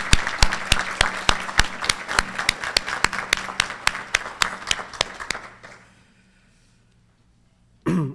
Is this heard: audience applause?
yes